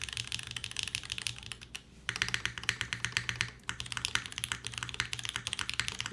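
Rapid typing on an all-aluminum Mode tenkeyless mechanical keyboard, crisp clacky keystrokes in a steady flurry, close up, with a brief pause before the typing resumes.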